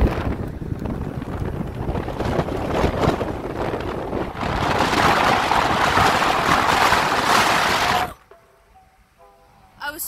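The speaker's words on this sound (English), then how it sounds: "that's a lot of wind" Wind buffets through an open car window while driving along a parkway, giving a loud, gusty roar that swells for about eight seconds before it cuts off sharply into near quiet.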